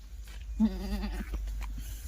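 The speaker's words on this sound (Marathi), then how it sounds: "हे बघा बकऱ्या बोकड आणि हा बोकड बघा" A single close, wavering bleat from a Kathiyawadi goat at a goat market in Chalisgaon, rising over quiet low rumble.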